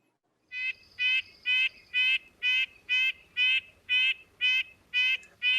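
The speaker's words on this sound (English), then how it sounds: "Here's their song. Red-breasted nuthatch." A red-breasted nuthatch sings a series of about eleven evenly spaced, nasal, buzzy notes, close and clear against a quiet background with no other sounds.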